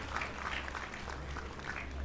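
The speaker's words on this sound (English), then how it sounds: "Can we clap our hands for him?" An audience at a conference claps hands for a local director, a faint, even round of applause lasting about two seconds.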